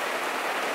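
Steady rain falling on a surface, a dense, even patter of drops that stays constant and fairly loud throughout the short stretch, with no voices.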